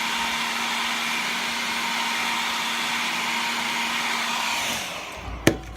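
An air dryer blows steadily and close over transparent black Createx paint on a custom holographic jerkbait, a constant whooshing roar that cuts off near the end with a small click.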